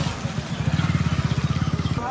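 A motorcycle engine putters nearby at a busy village vegetable market, a rapid rhythmic low chugging that swells briefly then fades, heard over a crowded outdoor background.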